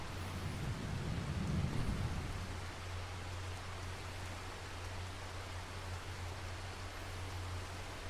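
Steady video-game rain in a farming simulator hisses continuously with a low rumble underneath, louder for the first couple of seconds before settling into an even patter.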